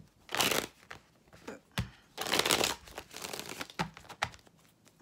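Tarot cards are riffled and shuffled in repeated quick bursts, crisp papery flutters broken by brief pauses and taps.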